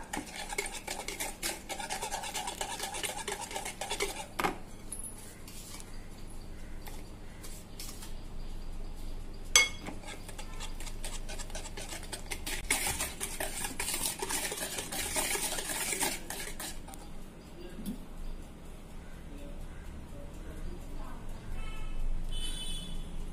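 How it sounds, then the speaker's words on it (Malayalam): Beaten egg being mixed with powdered sugar, a spoon or whisk scraping and clinking steadily against the bowl for the whole stretch, close and moderately loud, for a Bangladeshi sweet called aflatoon. "മുട്ട ഒന്ന് ബീറ്റ് ചെയ്തതിന് ശേഷം പഞ്ചസാര പൊടിച്ചത് കുറേശ്ശെയായി ചേർത്ത് മിക്സ് ചെയ്തെടുക്കാം"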